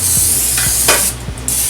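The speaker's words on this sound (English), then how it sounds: "You were spraying a lot." Cooking spray hisses from a can onto Hawaiian bread rolls, a close, steady spray with a few faint clicks, and no talking.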